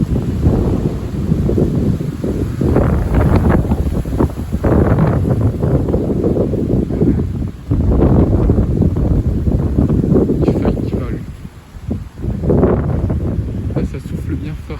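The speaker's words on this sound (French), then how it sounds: "Alors voilà qu'il y a des rafales qui arrivent." Strong wind gusts of about 70 km/h buffet the microphone outdoors in late November, roaring loudly in long surges and bending a fir tree, with brief lulls between gusts.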